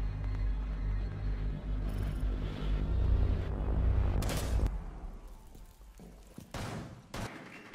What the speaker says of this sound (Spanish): Una escopeta. Esa escopeta es la del Bandit, creo